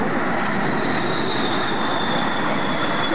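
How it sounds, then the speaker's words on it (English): A B-1B Lancer bomber touching down at an airshow, a loud, steady jet engine roar with a high whine that slowly falls in pitch, heard from a distance without talking. "Let's just watch as he touches down out here."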